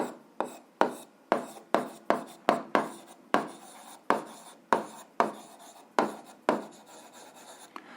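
Pen or pencil writing algebra on paper, a run of quick close scratching strokes in short bursts of about half a second each, steady and fairly loud with no talking.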